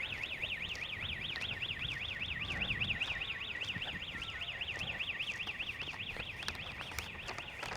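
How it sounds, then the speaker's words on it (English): A car alarm in a suburban park in Wanneroo, Perth, whoops in a steady rapid warble throughout, moderately distant over outdoor ambience with no talk. "just set the alarm off there"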